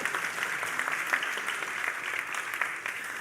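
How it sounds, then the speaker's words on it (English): An audience at a business forum gives steady, dense applause that continues evenly throughout, with no speech over it. "clap if you want?"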